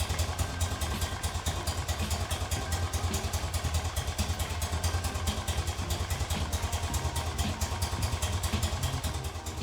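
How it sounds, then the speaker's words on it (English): An old BMW R65LS Airhead motorcycle engine idles at low RPM, a steady, close, even throb with rapid regular pulses and no talk. "An old Airhead in tune should easily idle under 500 RPM."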